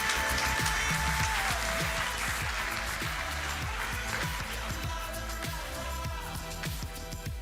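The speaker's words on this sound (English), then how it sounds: "Let's give them a round of applause." An audience at an evening civic gala applauds honorary co-chairs, a broad sustained round of clapping over a loud room backdrop, with low thumps and some overlapping murmur throughout.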